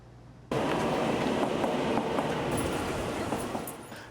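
A train at a station sets in suddenly with a loud, steady rumble and a rattle of wheels on the rails, then fades a little toward the end.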